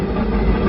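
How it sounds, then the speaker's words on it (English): Boat engines on a Skiwi boat start up by key, settling into a steady, loud low rumble close by for the whole moment. "And it's just key start."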